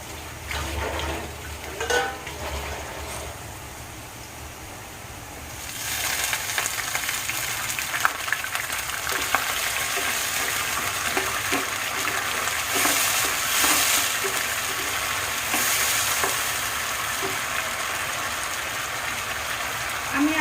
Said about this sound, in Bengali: অলরেডি আমার পেঁয়াজ বেশ মানে বাদামি কালার হয়ে গিয়েছে। এখন আমি একটু পানি দিয়ে দেবো।